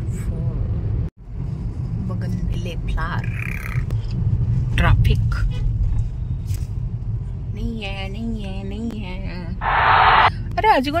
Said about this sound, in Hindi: moving traffic afternoon market scene